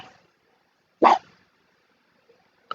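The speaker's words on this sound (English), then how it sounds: "Maisie, no barking, I'm live." A dog gives one sharp bark in a quiet room, followed by a short faint yip a moment later.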